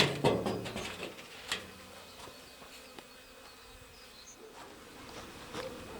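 Honeybees buzzing around an Alpine-type hive at an apiary during the first spring inspection, a faint, steady hum with a few louder passes as bees fly close to the microphone.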